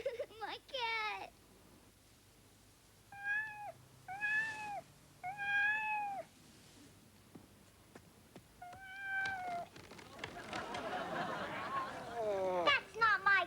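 A cat meows repeatedly, several drawn-out, rising calls close by, with quiet pauses between them and some chatter near the end.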